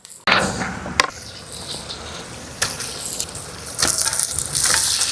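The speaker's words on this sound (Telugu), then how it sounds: "పోయింది ఇప్పుడు చికెన్ వేసుకుందామండి" Country chicken pieces hit a hot pan of oil with mint, coriander and turmeric, setting off a loud, close sizzle after a sharp clatter, with bursts of stirring scrapes and crackles.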